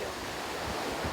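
Ocean surf at a Busan surfing beach churns in a continuous roaring wash, with gusty wind buffeting the microphone, and no voices.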